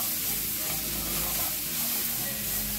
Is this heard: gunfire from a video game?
no